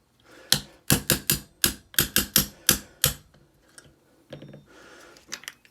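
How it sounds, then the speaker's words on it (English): Hammer and punch driving a pin out of a Walther PPQ pistol: about a dozen sharp, close metallic taps in quick irregular succession, then a pause and a few softer taps at the end. "drive this back pin out while you got your hammer and punch out"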